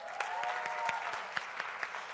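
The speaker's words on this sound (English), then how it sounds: "So just give yourselves a hand of applause." An audience at the Baobab Summit 2019 panel event claps in a light round of applause, a soft, steady patter with individual sharp claps scattered throughout, heard at a moderate distance.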